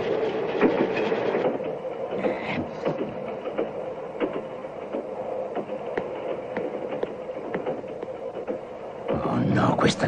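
Moving train in an animated chase scene, a steady rumble with rhythmic clicking of wheels and brief louder clanks, mid-distance, under a light background score, no speech.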